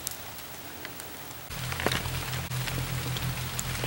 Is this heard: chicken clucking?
no